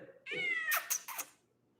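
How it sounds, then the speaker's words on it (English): A big, chunky cat gives one close meow, drawn out with a rising tone and ending in a couple of short clipped bursts, loud against a quiet room. "Big, chunky cat."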